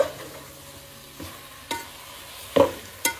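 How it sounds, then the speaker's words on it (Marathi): Jackfruit vegetable is stir-fried in a spiced tempering in a pan on a wood-fired stove, a soft steady sizzle broken by four or five sharp scraping stirs of a spoon against the pan. "5 मिनिटं 5 मिनिटं परतत राहायची भाजी"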